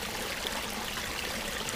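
Continuous rushing and trickling of a creek flowing through woods, a steady close wash of water with no voices.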